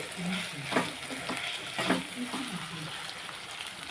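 Potatoes frying in a pan are stirred, with soft scraping strokes every so often over a quiet, steady sizzle.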